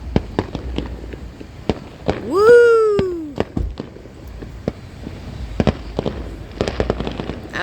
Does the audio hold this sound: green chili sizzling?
no